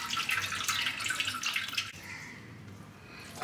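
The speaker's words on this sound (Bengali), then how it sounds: "ছানাটা একটু ঠান্ডা জল দিয়ে ধুয়ে দিচ্ছি, টক জলটাও বেরিয়ে যাবে" Cold tap water runs over chhana (cottage cheese) being rinsed, a splashing stream that cuts off abruptly partway through and leaves quieter dripping and trickling, with no voices.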